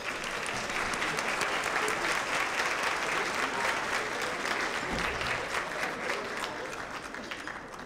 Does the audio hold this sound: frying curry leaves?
no